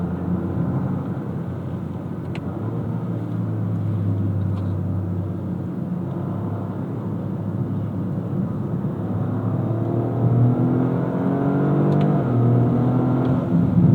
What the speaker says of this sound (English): It's giving me a little bit of that jolt, a little bit of that torque dip between upshifts to add to some theater.